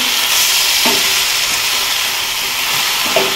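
Raw jackfruit curry with potatoes fries loudly in oil, a dense, steady sizzle and hiss close up, with occasional scraping thumps of stirring.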